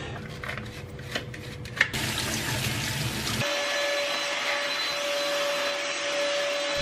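A household vacuum cleaner runs indoors during home cleaning, a loud steady broadband whir with clattering bumps at first, then settling into a smoother drone with a sustained motor whine.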